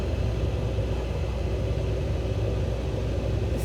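A combine harvester engine rumbles steadily while harvesting soybeans, a loud low droning hum with no breaks, heard close from onboard.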